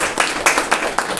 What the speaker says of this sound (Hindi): जोरदार तालियों से परमेश्वर का स्वागत करें।